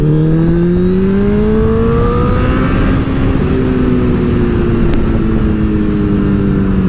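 A Honda CBR 1000 motorcycle engine accelerates loudly and continuously, its droning pitch climbing and then levelling off as it rides on, with steady rushing noise throughout.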